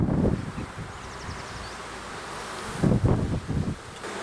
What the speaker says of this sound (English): Now there's a bunch of bees on this sidewall right here I'm looking at right now